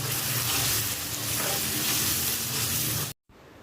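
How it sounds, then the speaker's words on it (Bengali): Fish sautéing in a paste of onion, turmeric, salt and chili powder: a loud, dense, continuous sizzle up close with faint stirring, cutting off abruptly near the end before a quiet room tone. "মশলার সাথে মাছ কষানো হচ্ছে"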